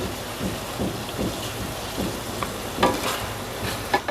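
Minced meat keema being fried over medium heat in a pan, with an even sizzle broken by regular scraping stirs and a couple of sharper clanks, close up and without talk.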